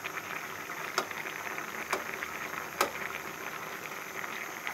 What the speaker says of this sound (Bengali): এখন দেখব আমরা আলুগুলো সিদ্ধ হয়েছে কিনা।